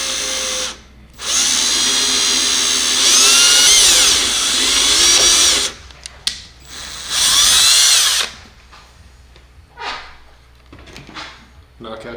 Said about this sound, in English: and drill out this one.